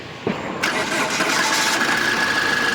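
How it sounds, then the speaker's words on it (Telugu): A 2017 Ford EcoSport Titanium engine cranks briefly, then catches and settles into a steady running rumble with a faint high whine, close by. "సార్ ఇంజిన్ అనేది స్టార్ట్ చేసి చూపిస్తాను, చూడండి."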